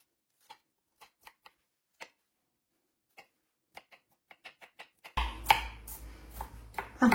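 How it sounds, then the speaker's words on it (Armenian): Finely chopping onion and garlic with a knife on a board, sparse crisp single taps at first, then a dense louder run of rapid cuts and scraping near the end. "Սկզբում կտրատում ենք սոխը և սխտորը, մանր կտրատում ենք"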